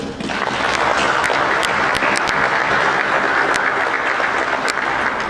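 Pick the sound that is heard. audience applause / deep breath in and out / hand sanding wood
audience applause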